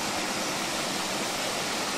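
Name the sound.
waterfall flowing down over rocks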